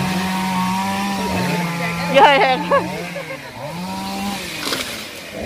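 A chainsaw cuts through a eucalyptus tree, its steady loud engine drone running throughout with rising revs near the middle, while people talk nearby.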